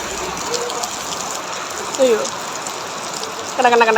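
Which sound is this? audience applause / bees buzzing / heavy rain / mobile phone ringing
heavy rain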